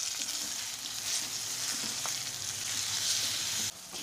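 Vegetables and fish with turmeric sizzle steadily in a pan for a Bengali fish curry, a continuous close frying hiss with light stirring scrapes, cutting off abruptly near the end.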